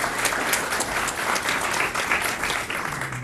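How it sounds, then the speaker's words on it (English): An audience at a Board of Education meeting gives a steady round of applause, dense clapping that holds at an even level throughout. "A special round of applause"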